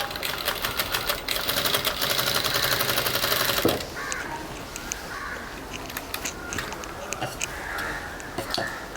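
A sewing machine stitches lining material onto a handmade jute sling bag, running in a dense, rapid burst for almost four seconds before stopping. Quieter handling and tapping sounds follow.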